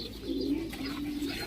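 Pigeons coo steadily in a loft housing racing pigeons and their young, a low rolling murmur that carries on without a break and holds close and moderately loud.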